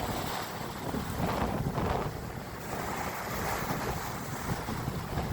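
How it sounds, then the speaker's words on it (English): Strong wind buffets the microphone in a steady, loud roar, with gusts swelling and easing over a constant rumble; waves and water wash in the background. "it is extremely, and I mean extremely windy out here"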